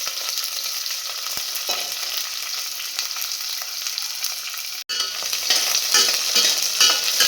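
Garlic and onion sautéing in plenty of oil: loud, steady close sizzle, briefly cut off, then returning brighter and more vigorous, with no voices.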